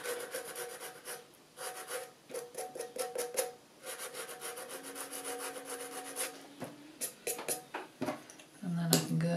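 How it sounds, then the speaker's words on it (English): Hand sanding a decoupaged tin can, a close, repeated rubbing and scraping in uneven strokes with short pauses, plus a few light clinks near the end. "That I just need to sand off"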